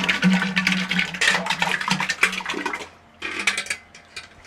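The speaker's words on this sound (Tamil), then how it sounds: "இப்போ ஐஸ் தண்ணி ஊற்றுறோம்." Ice water poured into homemade curd (yogurt) ahead of churning butter for biodynamic farming inputs, a splashing, gurgling pour with clinks of a vessel, steady for a few seconds before a short pause and a second pour.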